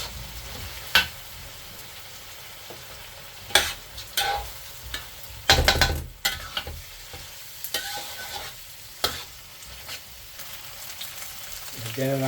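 Rice and glutinous rice being stirred in a pot for lugaw with pork intestines, giving scattered scraping and knocking strokes at an irregular rhythm, close by and moderately loud, with a bright clatter around the middle.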